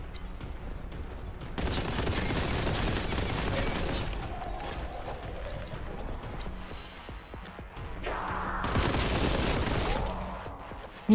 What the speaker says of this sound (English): We take him out with the regular bolt gun now.